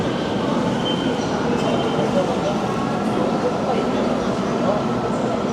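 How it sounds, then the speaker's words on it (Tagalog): A Seoul subway train pulls into the station with a steady, loud rumble and a broad hum from the wheels and motors. The noise holds constant over the whole stretch, with faint squeals underneath. "Ito na yung train. Parating na."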